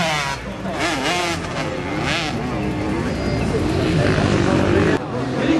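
Enduro motorcycle in an extreme test section at Zabiedovo, engine revving in waves as it approaches, loud and close with rising and falling pitch, while a commentator talks over it.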